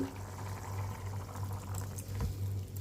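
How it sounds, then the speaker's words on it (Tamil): Eggplant curry simmering in a pot, giving a steady close bubbling and boiling sound with a constant low hum beneath, alone without talk. "ஒரு பத்து நிமிஷம் கொதிச்சிருச்சு"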